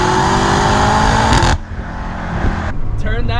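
A BMW F90 M5 engine revving hard through quick dual-clutch gear shifts, a loud sustained roar that drops sharply at a shift and then builds again, with a voice speaking over it.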